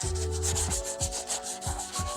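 Steady abrasive rubbing of sandpaper over a painted car bumper, repeated strokes in an even rhythm, close up, with no voices.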